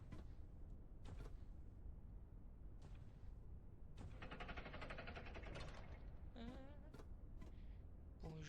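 In the video game Figid Dusk, a door slams shut with several sharp, quiet bangs. Mechanical rattling and brief voices are spread across the scene.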